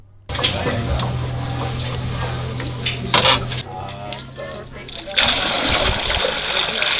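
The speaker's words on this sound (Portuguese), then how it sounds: "O primeiro compromisso das famílias, logo ao amanhecer, é puxar água no poço." Water being hauled up from a village well at dawn, with splashing and pouring water sounds close by, a steady hum underneath and people talking over it.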